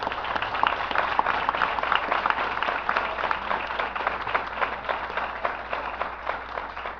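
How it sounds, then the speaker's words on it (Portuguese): A church congregation claps together after a reading, a continuous mid-sized patter of hands that holds steady and evenly loud, with no voice rising above it. "Pode aplaudir a palavra."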